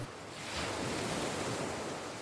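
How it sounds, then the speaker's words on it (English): Ocean waves wash onto the shore as a broad, steady rush that swells slightly and then eases, alone and fairly soft, with some wind mixed in. "The waves come in, then retreat,"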